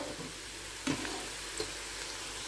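Prawns for Prawn 65 fry in a pan with a continuous quiet sizzle, broken by a couple of brief stirring knocks.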